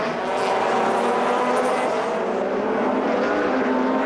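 Touring cars from the 2004 British Touring Car Championship pulling away on a restart after a safety car period, a sustained loud engine drone with rising tones, heard from trackside and continuous for the whole stretch.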